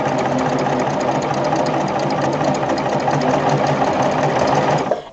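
A serger trims and sews a right-sides-together quilt seam on a log cabin block, running loud and close in one steady continuous buzz with a rapid rhythmic chatter before cutting off abruptly at the end.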